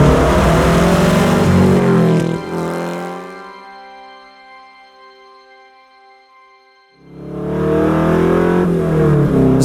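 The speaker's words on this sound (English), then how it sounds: "So this is one of 5 Porsche 906 race cars that was built specifically for the movie Ford v Ferrari." A Porsche 906 race car engine revs hard and loud up close, falls to a quieter idle with a fading whine, then roars back up to full revving.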